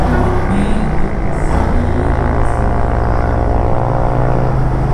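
A motorcycle engine runs loud and close, a steady low rumbling drone with a dense buzz that holds without pause for the whole stretch.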